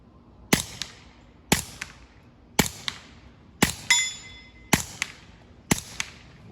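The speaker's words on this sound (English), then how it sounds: "Let's try some distance shooting." Keltec P17 pistol with a Farrowtech chassis firing at distance on an outdoor range: six sharp, loud shots about one second apart, each with a quick echo trailing behind.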